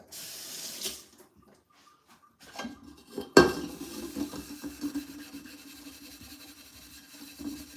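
A metal cooking pot being scoured with steel wool at a sink: scattered clanks and scrubbing rubs, one sharp clatter near the middle, then bursts of gritty rubbing with running water, fairly close and fairly quiet.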